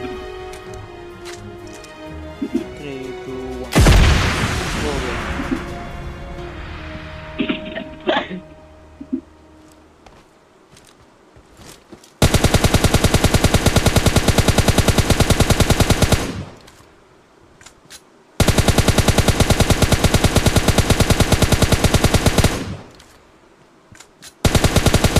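Automatic gunfire in PUBG Mobile: two long, sustained rapid-fire bursts, loud and close, follow a stretch of scattered clicks and quieter game sounds.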